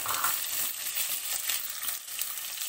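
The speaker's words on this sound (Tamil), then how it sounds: "இது கூடவே 2 பெரிய வெங்காயம் கட் பண்ணி வச்சுருக்கேன், அதையும் சேர்த்துக்கிறேங்க. சேர்த்துட்டு இதை நல்லா கலந்து விடுங்க." Sliced onions frying in a pan with spices while being stirred, a steady broadband sizzle with faint scraping of the spoon, close and continuous with no voices.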